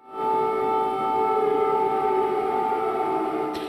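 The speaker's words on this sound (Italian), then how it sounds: "Le sirene hanno risuonato in diverse città, in particolare in quelle del sud come Mykolaiv e Kherson" An air raid siren sounds in a Ukrainian city such as Mykolaiv or Kherson, wartime alert: a sustained, steady wail holding one pitch, fairly distant and filling the whole moment without voices.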